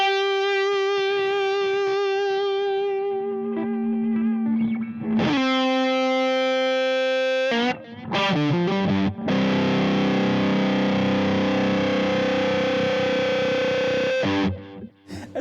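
Heavily distorted electric guitar through a pedal sustains notes that bloom into squealing feedback, loud and saturated, with sharp breaks between sustained passages.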